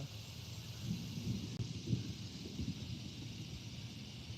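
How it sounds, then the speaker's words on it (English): Distant thunder rolls as a low, continuous rumble outdoors during a catfishing outing, steady and heavy beneath faint wind with no voices. "that's thunder"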